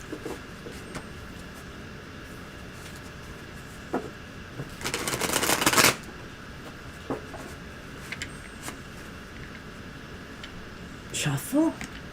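Tarot cards are shuffled in one brisk riffle lasting about a second, close by, amid a quiet room with faint background hum and brief talk at the end.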